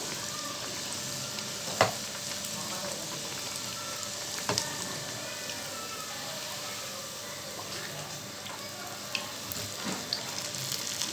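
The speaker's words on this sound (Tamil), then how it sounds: "இந்த பாருங்கள் எவ்வளோ நல்லா பொரிஞ்சு வரு இந்த மாதிரி பொரிஞ்சு வரட்டும்." Parotta frying in oil on a hot tawa gives a steady, close sizzle throughout, with a few sharp clicks and taps from turning it over.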